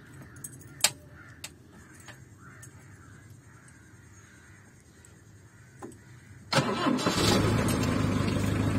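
A modified 1999 Hindustan Contessa engine cranks and fires after a quiet stretch with scattered clicks and a distant crow, then settles into a loud, steady running rumble close by.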